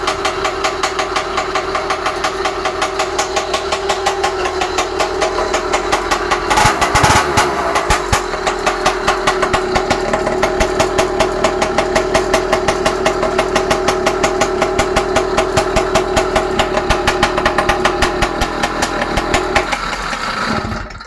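A motorized bicycle's small two-stroke engine with a modified exhaust pipe idles steadily and loudly up close indoors, a rapid buzzing putter that holds an even pace throughout before briefly cutting out near the end.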